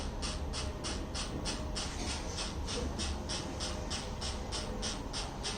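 A 3.5 rpm low-speed, high-torque motor turning solar panels gives off a steady mechanical hum with regular ratcheting clicks about twice a second, constant and moderately quiet.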